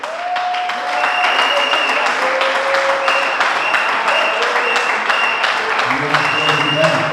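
A church congregation claps loudly and continuously in praise during a French-language worship service, with a sustained crowd applause and a voice or music tones ringing over the top.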